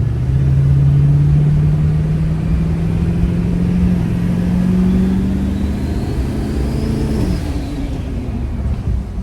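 A Duramax diesel pickup truck accelerating close by, its loud engine drone rising steadily in pitch through the gears with a sharp shift change near the end, then settling as power eases off.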